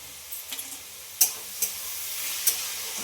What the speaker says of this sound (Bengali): দেখো সবজিগুলোকে ভেজে নিচ্ছি।